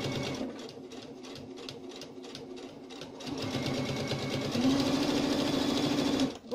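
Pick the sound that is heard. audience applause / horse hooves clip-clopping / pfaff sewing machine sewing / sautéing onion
pfaff sewing machine sewing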